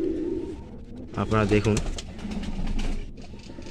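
A pigeon gives a low, throaty coo close by, with someone talking briefly over and around the call.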